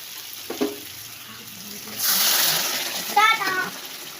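Water poured from a pot into a simmering fish curry cooking in a pan, a bright rushing splash and sizzle lasting about a second, with brief clinks and a voice before and after.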